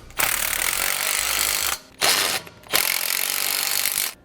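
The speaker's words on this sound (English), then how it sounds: "We're going to use a 15mm socket to tighten them down." Harsh rapid ratcheting from a 15mm socket tightening bushing bracket bolts for a rear anti-sway bar on a 2006 Winnebago motorhome, in three loud bursts of roughly 1.5 s, 0.5 s and 1.5 s with brief pauses between, no talk.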